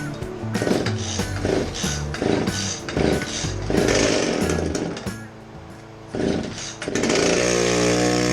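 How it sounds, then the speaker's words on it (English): A McCulloch TimberBear chainsaw runs close and loud, its engine rising and falling in repeated revving bursts over a steady rough idle. "Make it go vroom. Come on, we all want to hear it run."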